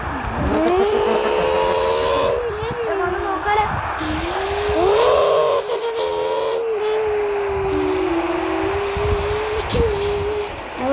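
A BMW M3 engine revs and drones as it drives past, pitch shifting through gear changes, with a voice speaking briefly over it.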